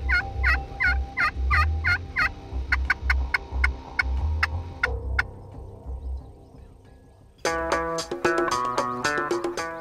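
Wild turkey toms gobble in repeated bursts at a distance of a couple hundred yards, with softer clucks and calls between them, before a steady low hum takes over near the end.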